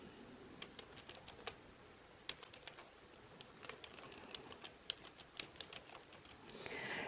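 Someone types on a computer keyboard, irregular light clicks in short bursts, faint and close against quiet room hiss.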